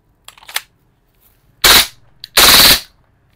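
Airsoft G17 Perfection pistol firing full auto, two loud, close bursts of rapid shots about a second apart, preceded by a few softer clicks and handling noises.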